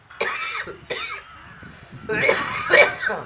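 A person coughs twice in quick succession, then a few more harsh, throaty coughs follow after a brief pause, close and loud.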